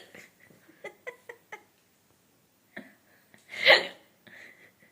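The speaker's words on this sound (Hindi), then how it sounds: "मेरी मम्मा को हिचकी है" A loud hiccup from a woman, following several softer breathy catches and small vocal bursts, with a faint murmur trailing off afterward.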